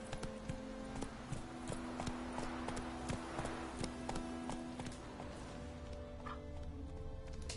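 Roach the horse in The Witcher: Wild Hunt, with hooves clip-clopping in a steady, fairly close rhythm throughout and faint ambient game sound underneath.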